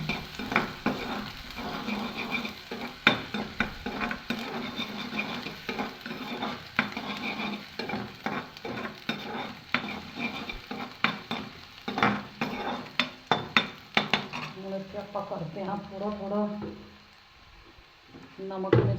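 Chopped onions frying and being stirred in a pan, a continuous close sizzle broken by brisk, repeated scrapes and knocks of a spatula, the stirring quickening before a brief lull near the end.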